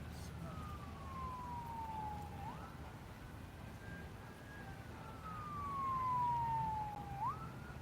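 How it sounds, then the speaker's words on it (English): An emergency vehicle siren wails in the distance near George Bishop Parkway, a slow rising and falling tone repeating twice over a low traffic and wind rumble, faint against the background. "Well, that's a siren."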